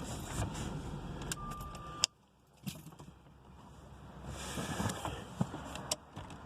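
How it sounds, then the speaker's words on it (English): Jaguar XJ8 with its ignition switched off: a low engine hum and faint clicks cut out suddenly to near silence, then soft cabin rustles and key clicks follow. "Then you just cut off the ignition."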